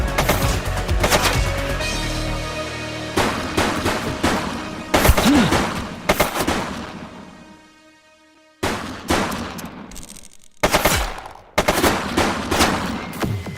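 Rapid bursts of gunfire in the police video game The Precinct, loud, dense volleys that break off into short silences before resuming in clustered shots.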